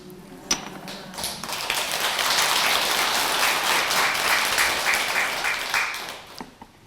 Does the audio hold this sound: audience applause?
yes